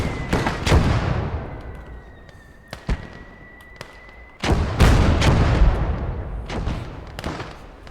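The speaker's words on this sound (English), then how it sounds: "that's the mortars." Mortar fire in a video game battle: heavy booming blasts, several close and loud, spaced irregularly over a low rumbling battlefield background, with a thin steady tone running between the impacts.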